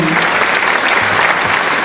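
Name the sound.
applause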